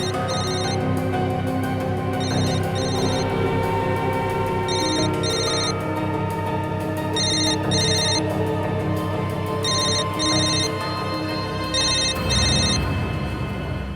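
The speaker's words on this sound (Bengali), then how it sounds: "কার ফোন এটা?" A telephone rings in repeated paired bursts of a bright electronic tone, about five or six cycles at a steady rhythm, heard over a continuous low room hum with no talking.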